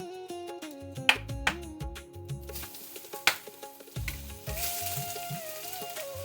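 Vegetables fry in hot oil with green and black cardamom, star anise, cloves and bay leaf for veg biryani, a gentle sizzle and stirring clatter rising in the second half while music plays throughout.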